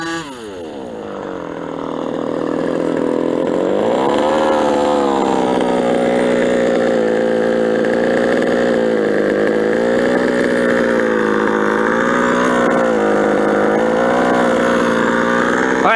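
A nitro RC truggy engine running low on fuel revs steadily and loud for a long stretch, its pitch wavering and sagging as it bogs, close by with no pauses.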